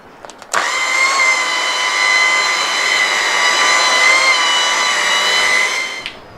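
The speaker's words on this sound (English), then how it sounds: "Now the trick here is to just keep the buffer moving and keep it completely flat to the surface." A powered buffer polishes a boat surface, a steady close whirring whine with a constant pitch that starts with a click, holds evenly for about five seconds, and then stops.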